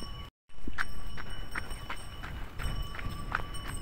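Steady clip-clop of bullock hooves as they walk along, an even rhythm of sharp knocks over a windy outdoor background.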